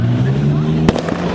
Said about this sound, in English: There was a firework.